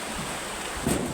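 River water at Nagcarlan, Laguna rushes in a steady broadband wash, with a slight surge near the end and no talk.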